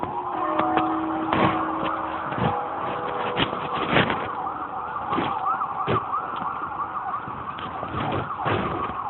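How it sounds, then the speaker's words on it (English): Emergency vehicle sirens wail from a distance during a blizzard in New Britain, rising and falling steadily over gusting wind noise, with several sharp knocks and thumps near the microphone. "Sirens are getting closer."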